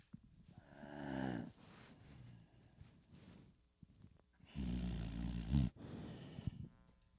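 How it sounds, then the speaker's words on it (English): A dog asleep on a bed snores in two long, rumbling, throaty bursts close by, with quieter breathing between them and no talking. "My dog is sleeping on my bed right now. This motherfucker snores like a grown ass man."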